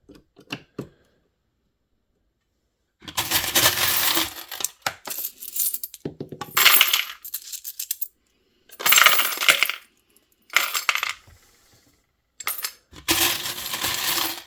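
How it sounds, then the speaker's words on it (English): Metal coins pour and clatter into a container in several separate bursts, loud and close, with quiet gaps between the pours and no talking. "it takes a long time to dump all these coins in here"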